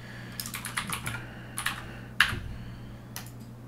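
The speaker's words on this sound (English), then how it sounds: "So if I type in" Computer keyboard keys clatter in quick, irregular bursts as text is entered into a PHP web form, the clicks close and fairly crisp, with one sharper keystroke near the end and no talking.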